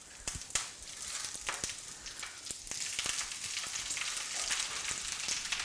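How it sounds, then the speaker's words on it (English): Five cups of spinach dropped into hot oil in a single pan, a soft crackling sizzle that swells and holds steady, with a few sharp clicks early on; fairly quiet, no voices. "then we're going to put our spinach in there, all 5 cups in one pan"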